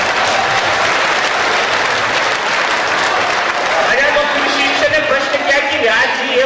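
Audience at a Hindi comedy poetry gathering (hasya kavi sammelan) at B.I.T. Sindri applauds loudly and steadily for several seconds, dense continuous clapping with a voice rising through it near the end.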